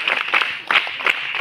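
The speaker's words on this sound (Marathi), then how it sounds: "पुन्हा एकदा जोरदार टाळ्या होऊन देत." Audience applause at a school picnic event rises in quick, bright bursts of clapping, with several surges and close, fairly loud crowd hand claps throughout a short stretch.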